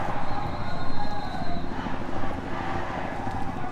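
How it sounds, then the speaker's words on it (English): A helicopter hovers somewhere above a street protest march in Orlando, its low rhythmic rotor thump pulsing steadily under crowd noise and general outdoor bustle. The sound stays fairly distant and never drops out. "I can hear the helicopter, I don't see it."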